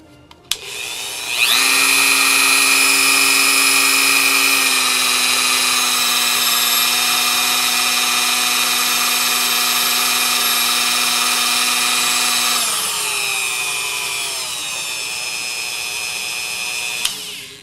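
A new Dremel 4300 rotary tool spins up sharply and runs with a loud, steady high-pitched whine, then its pitch drops and wavers before it winds down, heard up close with no talking.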